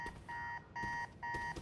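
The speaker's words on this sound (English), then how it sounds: "How long has that been going off? His alarm?" An alarm going off in Marvel's Spider-Man 2, three evenly spaced electronic beeps, each lasting about a quarter second, faint and alone.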